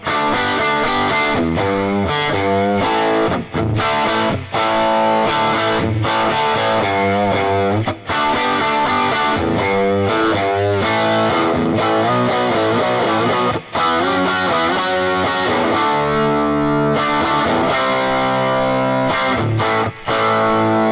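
Distorted electric guitar plays an intro riff at close range, a loud, continuous run of rhythmic chords and single-note phrases with brief gaps between phrases.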